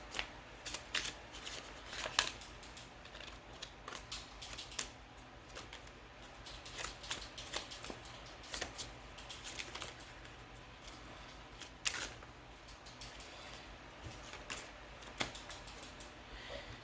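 Tarot cards being shuffled and handled close up, with quick papery riffles, flicks and taps recurring irregularly, fairly faint over a low background hum.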